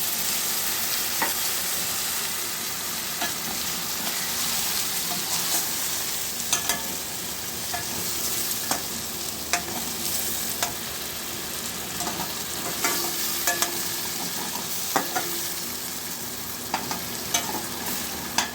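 Pointed gourd sautés in a pan with a splash of water, a continuous low sizzle and bubbling broken by occasional scraping and stirring clicks.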